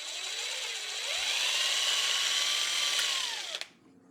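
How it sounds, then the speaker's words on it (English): A power drill drilling into wood whirs steadily for over three seconds, its pitch rising as it bites in, then cuts off abruptly near the end as the bit breaks. "drill a hole into the top of the roof"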